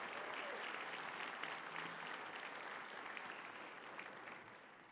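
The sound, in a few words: audience applause for the photographer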